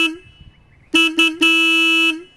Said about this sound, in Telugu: హార్న్ యొక్క లౌడ్నెస్ అనేది ఒకసారి చెక్ చేద్దాం.